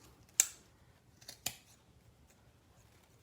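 Scissors snip sweater fabric for a no-sew pumpkin craft, two crisp close cuts about a second apart over a quiet room, with a fainter click near the end.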